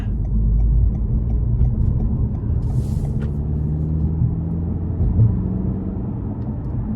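A 2024 Toyota Camry XSE with a 4-cylinder engine, in sport mode and merging onto an interstate, gives a steady low engine and road rumble from inside the cabin, continuous and fairly loud, with one brief hiss near the middle.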